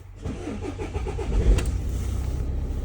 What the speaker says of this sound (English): so now that the engine's started